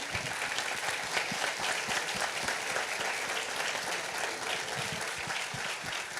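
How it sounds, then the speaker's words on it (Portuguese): Applause for the writer Conceição Evaristo as she enters a room: a continuous, even clatter of many hands throughout, with no voices rising above it. "Vou pedir uma salva de palmas antes de eu seguir"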